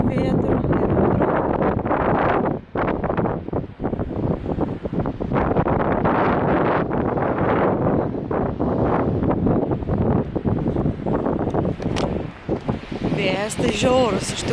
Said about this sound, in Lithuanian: Vėjas tai žiaurus iš tikrųjų